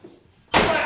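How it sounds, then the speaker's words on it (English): A sudden loud door slam bursts in after a near-silent stretch, followed by a sustained, noisy reverberant wash. "The door slams shut."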